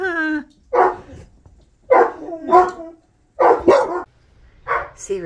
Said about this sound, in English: Try and figure out where the dogs are.